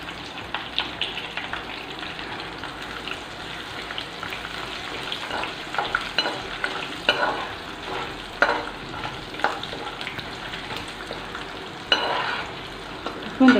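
Six or seven crushed garlic cloves, skins left on, frying in hot oil for a taro root fry, a steady close sizzle broken by scraping stirs and clinks, with no voices.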